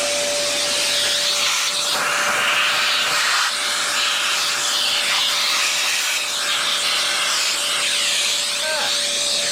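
Vacuum runs steadily in a luthier's workshop during pickup work on an old Kay bass, a continuous broadband whoosh with a faint whine, close and loud throughout with no break.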